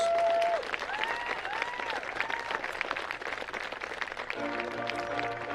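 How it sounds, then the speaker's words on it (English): At a varsity baseball senior night at McConnell Field, the crowd gives the seniors a steady round of applause. A whistle-like tone and a few voices rise briefly over the clapping, which continues to the end. "Please join me in giving all of our seniors a round of applause"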